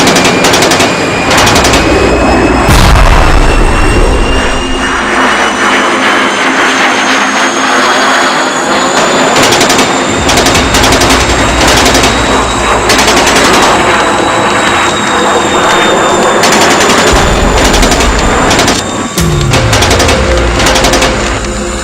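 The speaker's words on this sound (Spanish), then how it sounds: "Reaparecen aviones de la Marina y descargan varias docenas de bombas." Navy warplanes fly low during an aerial bombing raid, a loud continuous propeller-engine roar with rapid bursts of machine-gun fire and heavy impacts throughout.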